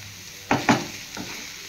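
Fried beetroot and carrot stirred in a pan: two quick close spatula scrapes, then a softer third, over a faint background sizzle with no speech.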